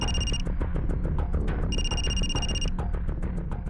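A telephone rings in a police office scene from a crime drama: two bright electronic ringing bursts separated by a pause, sounding over a steady background bed of music and room noise.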